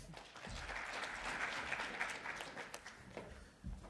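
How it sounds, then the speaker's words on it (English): Audience applause for a UNICEF education speaker at a conference session, a steady wash of many hands clapping at moderate distance, fading toward the end with a few last claps. "Please give her a round of applause."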